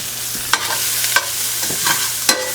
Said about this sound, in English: And then we're going in with our onions.